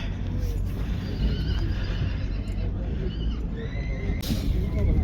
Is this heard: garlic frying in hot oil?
no